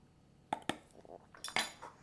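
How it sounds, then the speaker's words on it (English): Sloppy joe mixture seasoned with sugar, onion powder and garlic powder is stirred in a pan, giving a few faint metallic clinks and scrapes of a utensil against cookware, scattered irregularly over a quiet background. No one speaks. "Just going to kind of stir it around."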